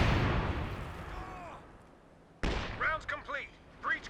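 An artillery barrage in Company of Heroes 2 opens with loud, close blasts rolling into a fading rumble. After a short quiet gap comes a sharp crack and a run of whistling, warbling shells and distant bursts.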